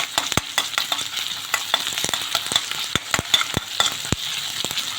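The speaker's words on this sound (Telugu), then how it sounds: "నూనెలో కాస్త ఆనియన్ వేగాక 1/2 స్పూన్ అల్లం వెల్లుల్లి వేసి దీన్ని ఆయిల్లో మంచిగా వేయించుకోవాలి." Onion with half a spoon of ginger-garlic paste fries in oil for an egg curry, a steady sizzle broken by frequent sharp scrapes and clicks of a spoon stirring the pan, close and fairly loud throughout.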